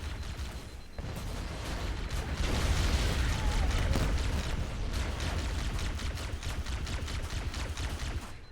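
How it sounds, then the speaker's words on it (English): Rapid bursts of grenade explosions and gunfire in a Halo firefight, dense and continuous for several seconds, with a loud swell partway through. "Too many grenades!"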